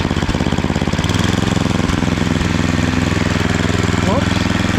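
A fixed-up estate-sale snowblower engine running steadily at a loud, close, rumbling idle with a rapid mechanical chug that holds an even rhythm from start to finish.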